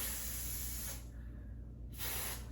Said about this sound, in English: I'm gonna take the freeze spray